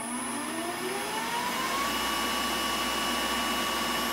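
A Super 11 lathe motor running on a variable frequency drive spins up from near standstill, its steady whine climbing in pitch over a few seconds and then levelling off, loud and continuous with a broadband hum and no talking.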